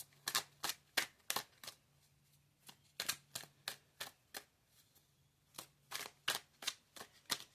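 Oracle cards being shuffled at close range in quick bursts of crisp riffling flicks, separated by brief pauses, with no talking.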